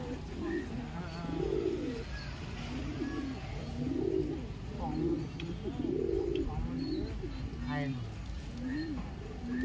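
Near a home, a white pigeon's low coos repeat in an even rhythm about once a second, mixed with a person's voice calling over and over.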